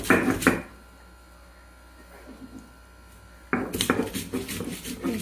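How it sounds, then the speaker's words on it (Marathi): Green chilli, cumin and garlic are crushed on a stone slab, giving gritty grinding strokes in a loud opening burst, a quiet pause, then a second run of rough scraping. "आता मिरची वाटून घेऊया"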